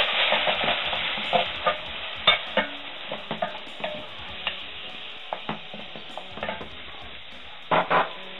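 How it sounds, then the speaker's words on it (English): Chopped tomato fries in palm oil with a continuous close sizzle, punctuated by scraping clicks and knocks as it is stirred in the pan. "I'm going to cook my chopped tomato in the oil"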